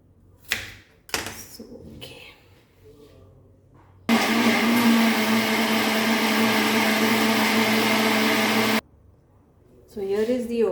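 A mixer grinder grinds masala for a Goan prawn and okra curry, a loud steady whir running for several seconds, preceded by kitchen clatter and followed by a voice.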